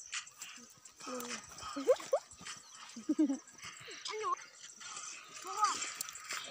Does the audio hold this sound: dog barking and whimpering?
yes